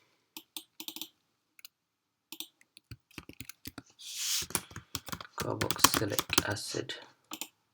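A computer keyboard is typed on in quick bursts of crisp clicks and taps, close and clear. Someone speaks briefly between the keystrokes.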